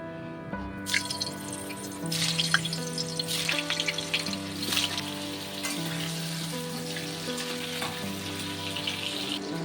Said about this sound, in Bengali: এখানে 6-7টা আলু দেখো একটু বড় বড় করে কেটেছি। এগুলোকে আমি লাল করে ভেজে নেব।